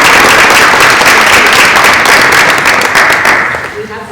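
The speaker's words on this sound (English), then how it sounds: "So, Round of applause." Loud applause fills a room at a school committee meeting, dense continuous clapping from close by that holds steady before fading in the last second.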